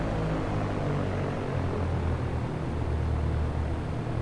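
A small propeller aircraft's engine runs steadily as the throttle is pulled back, a loud, continuous broadband roar with a low droning hum and no speech.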